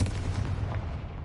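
A Confringo blasting spell detonates in a Harry Potter video game: one close, heavy boom with a deep rumbling body that stays loud through the whole short moment.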